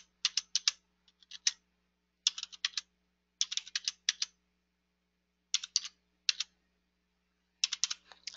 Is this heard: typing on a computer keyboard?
yes